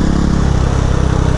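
Motorcycle engine runs steadily while being ridden along a road, a constant close low drone with a rough throbbing pulse and no talking over it.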